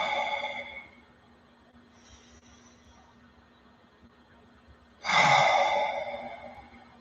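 Slow meditative breaths, a long soft exhale fading out, a quiet pause, then another deep breath swelling in loud and close and trailing away, with no talking.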